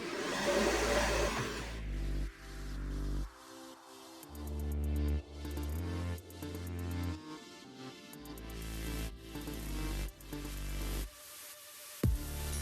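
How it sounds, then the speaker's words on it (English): A hair dryer blows with a steady whooshing hum, cutting out and restarting several times as its airflow roars on and off nearby. "pick up a comb and grab a blow dryer"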